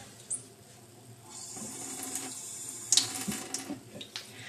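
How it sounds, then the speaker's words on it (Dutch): Water runs from a tap in a steady hiss, with small clinks and splashes over it, while water is added to homemade clay. "Nog wat water bij."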